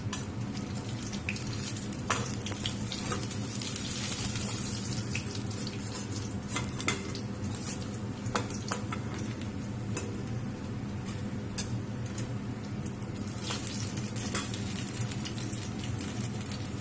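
Pumpkin leaf rolls fry in a pan of oil with a constant soft hiss and scattered small pops and ticks, fairly quiet and even throughout, no talking.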